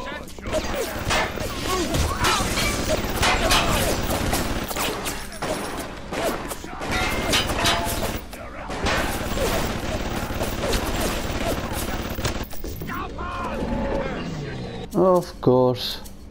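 Rapid, dense gunfire with anti-personnel rounds in the video game Bioshock, loud bursts of shots and impacts piling up into a chaotic fusillade, with a player talking over the action.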